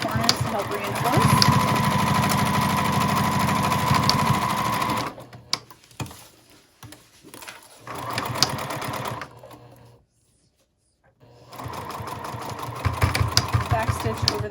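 A sewing machine back stitches at the corners of a small fabric ID wallet, running in bursts of fast mechanical whirring that stop, pause in near silence and then start again.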